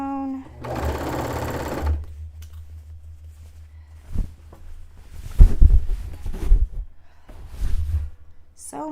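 A sewing machine stitches a dress hem made from bed sheets in several short, loud bursts of rapid motor chatter, separated by pauses with handling noise and soft breathing; a brief buzzy hum sounds at the start.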